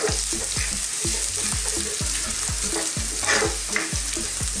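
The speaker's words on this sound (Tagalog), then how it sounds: "Gisa-gisa lang po." Ginger and aromatics sautéed in a pan for Filipino beef pares, constant sizzling frying with repeated rhythmic scrapes of a spatula stirring, close and fairly loud.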